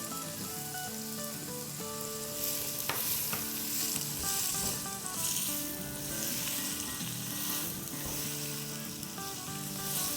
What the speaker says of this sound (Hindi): तो बस इसे हम 5 मिनट तक सौटे करेंगे अराउंड